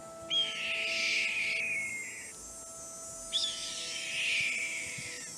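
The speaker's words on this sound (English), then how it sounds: "Red-tailed hawk." Red-tailed hawk call played from a cassette in a Nancy Drew video game, two long, hoarse descending screams with a short gap between them, loud and alone over a low hum.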